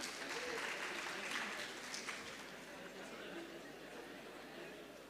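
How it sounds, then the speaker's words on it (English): An audience applauds a nursing student coming on stage to receive her certificate at a university ceremony; steady, moderately loud clapping fills the space throughout with a murmur of voices underneath. "Please give her a huge round of applause."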